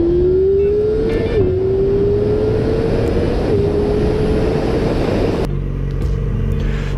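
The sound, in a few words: Yamaha R6 motorcycle engine revving at high RPM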